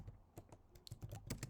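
Irregular keystrokes on a computer keyboard with a foreign layout, close and fairly quiet, with short pauses between clusters of key presses.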